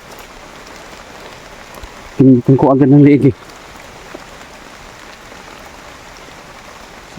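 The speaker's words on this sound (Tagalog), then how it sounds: "sobrang lakas ng ulan" Heavy rain pours steadily throughout, a constant hiss on surfaces outdoors; someone speaks briefly partway through over the downpour.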